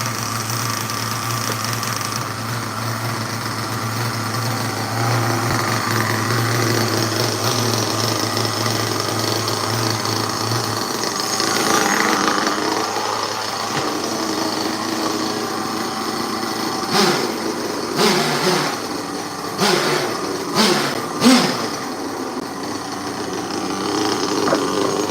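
A small nitro RC car engine runs with a continuous high, buzzing drone, close and loud. The tone wavers in pitch and rough sputters break in toward the end before it stalls.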